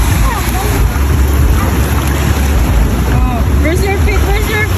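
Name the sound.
sea waves at the beach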